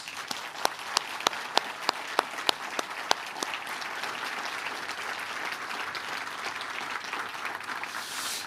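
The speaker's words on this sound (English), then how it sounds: "Please give them a well-deserved round of applause." An audience at the 2025 Dublin Literary Award ceremony applauds the judging panel seated in the front row. A few distinct, sharp claps ring out first, then the room fills with sustained, even applause.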